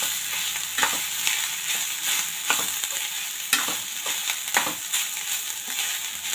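Cooked rice is stirred into a coconut mixture in a hot pan for Karnataka-style coconut rice, with steady sizzling under repeated spatula scrapes and soft thuds at an uneven rhythm, close and fairly loud.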